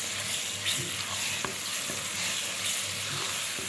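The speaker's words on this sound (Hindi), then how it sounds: "कढ़ाई में भूनना है, और इसके बाद हमने जो 3 टमाटर चॉप किए थे वो हमने भी इसमें शामिल कर देना है।" Chopped tomatoes fry with masala in a kadai, giving a steady close sizzle and crackle with occasional stirring scrapes throughout, and no voices.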